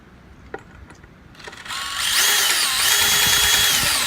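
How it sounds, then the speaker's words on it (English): A hammer drill starts up after a few quiet knocks and handling sounds, then bites into material with a loud, sustained high-pitched grinding whine lasting to the end. "You got that drill? You got it? Okay, put it in there."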